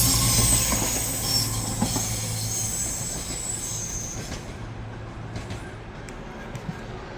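A Class 220/221 Voyager passenger train in Pride livery runs through Manors station in Newcastle, a steady loud rumble of wheels with wheel squeal and clatter throughout, easing slightly as it goes by, with no speech.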